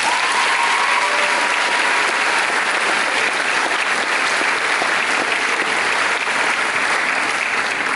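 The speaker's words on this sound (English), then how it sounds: "Let's give a round of applause to all the parents." Sustained applause from a large crowd at a high school graduation ceremony, loud and steady throughout with no break, a dense wash of many hands clapping together.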